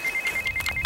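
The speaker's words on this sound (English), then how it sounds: "Phone." A mobile phone rings with a steady electronic tone pulsing in short bursts, loud and close, heard alone outdoors during a trout fishing trip.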